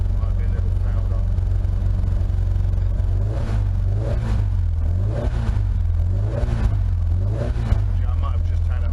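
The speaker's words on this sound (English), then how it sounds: "The car is not running totally smoothly, the plugs might be a little fouled up." A race car engine with a rev limiter around 8,000 rpm idles roughly, as if its spark plugs are fouled, and revs up and down repeatedly, a steady low rumble with rhythmic surges close by, with faint talk over it.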